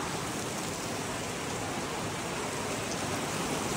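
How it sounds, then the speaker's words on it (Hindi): Heavy rain pours down on a cricket match in Indore in a dense, continuous hiss, steady and close throughout with no voices. "बारिश आ गई है बहुत तेज"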